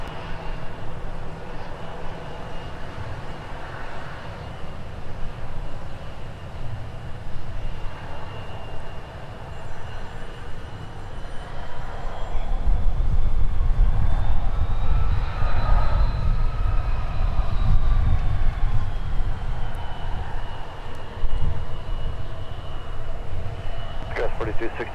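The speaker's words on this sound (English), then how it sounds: "Sun Country departing for Las Vegas with one out of only a handful of 737 900 ARs on the roster" A Sun Country Boeing 737-900ER jet departing Minneapolis airport for Las Vegas, its engine roar building from a distant rumble to a loud sustained thrust, with a voice talking over it.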